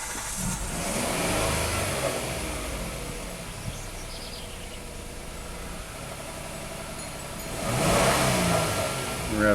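A Hyundai car engine with a hard-start, misfire and smoke problem cranks, fires and idles roughly up close, then revs up loudly near the end.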